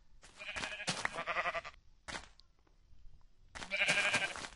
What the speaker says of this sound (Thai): เจอแกะ